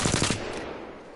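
An R301 rifle fires a rapid burst of about four close, loud shots in a video game, followed by a fading ringing tail.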